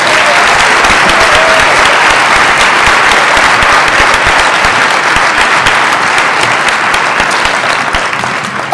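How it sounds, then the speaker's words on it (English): Dense, loud applause fills the hall at a school vocal music concert at Naperville North, a continuous roar of clapping from a large audience held steady throughout. "If we could please have a round of applause for those people."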